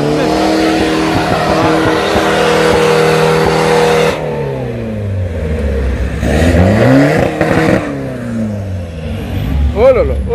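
A modified car at a Lyon car meet revs and accelerates hard with loud, rising engine sweeps and a brief tire squeal, alongside nearby voices in a busy outdoor crowd.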